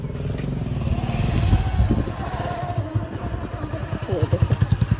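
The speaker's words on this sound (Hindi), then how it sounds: "ये देखिए बाइक जो है ना हमने निकाल दिया" A motorcycle wheeled out through a gate, with a low idling engine putter that steadies into a regular chug near the end, plus some clatter and a voice talking over it.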